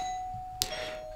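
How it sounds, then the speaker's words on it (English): A doorbell chimes once, a short bright strike with a ringing tail, over a steady electrical hum in a quiet indoor room. "And that was the doorbell."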